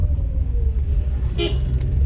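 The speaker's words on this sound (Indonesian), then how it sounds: "klakson" A short car horn toot sounds once amid steady road and engine rumble on a road in Toraja, Indonesia.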